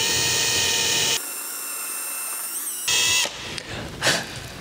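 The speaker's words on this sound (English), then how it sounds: "I'm gonna kind of center that and get me a pilot hole" A drill with a 3/32 bit bores a pilot hole in a kitchen cabinet, giving a loud whirring run that stops, resumes, then trails off into brief handling clatter.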